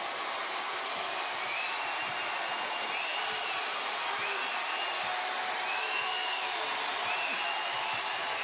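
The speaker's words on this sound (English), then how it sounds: "You're hearing the crowd with the live ball turnover and the highlight finish." A basketball arena crowd at a college conference semifinal roars in a steady, broad wash of cheering and noise after a fast-break dunk, continuous and loud throughout with faint whoops on top.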